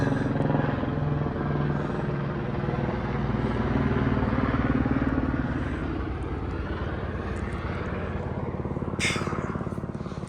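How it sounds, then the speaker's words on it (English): Helicopter flying over a Himalayan trail between Lukla and Kharikhola, a steady, throbbing engine and rotor drone that stays loud and continuous throughout, with a brief sharp noise near the end. "I was looking for the helicopter."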